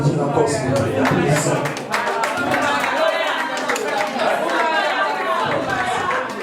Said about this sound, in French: Est-ce qu'on peut au moins applaudir encore s'il vous plaît?